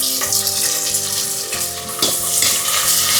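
Onion, tomato and curry leaves frying with garlic in a pan, loud continuous sizzling close up, broken by a few stirring scrapes and clinks.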